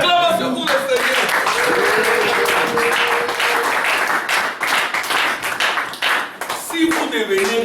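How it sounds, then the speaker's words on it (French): Church congregation clapping and cheering in acclamation of the Lord, a dense burst of applause with shouts and voices layered over it, tapering off near the end. "Acclamation pour le Seigneur"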